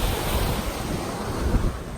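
Ocean surf washing in at Thunder Hole on the rocky Maine coast, a continuous roar of waves mixed with strong wind buffeting the microphone, loud and without any clear crash.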